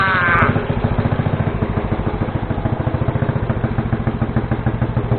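A Honda ATC 70 three-wheeler's small engine fires on the first pull from cold without choke, then settles into a close, steady rhythmic putter.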